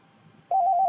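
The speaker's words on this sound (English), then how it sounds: "The phone rings." A desk telephone hooked to a Panasonic KX-TVA50 voicemail system rings, a steady electronic tone starting midway and holding loud and clear to the end, with no talk over it.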